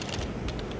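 Rapid, light keystrokes clatter on a computer keyboard in a brief burst of close, even clicks.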